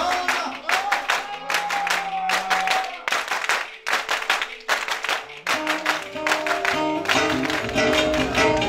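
Clapping at a village gathering of music and conversation in Gerder köyü comes in rhythmic, sharp bursts of hand claps over sustained tones from instruments or singing, loud and close.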